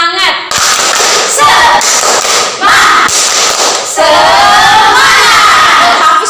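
A school class in a guidance and counseling lesson chants and claps together, a loud crowd of children's voices shouting in bursts with rhythmic clapping, close and energetic.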